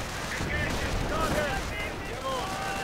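A World War II strategy video game battle with grenades going off and sustained gunfire. Dense, steady crackle and rumble from the game runs underneath a commentator who talks throughout.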